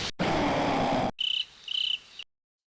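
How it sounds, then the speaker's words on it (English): Crickets chirping steadily in short loud bursts, a dense insect trill that drops out briefly and resumes in pulsing chirps before stopping, no voices. "Crickets."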